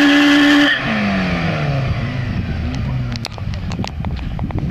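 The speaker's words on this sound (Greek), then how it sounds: "Γιάννης Νος 106 ραλί με 16 Honda" A Honda rally car accelerates on a dusty stage, its engine revving high then dropping through gear changes, followed by a burst of crunchy gravel and skid noises near and loud.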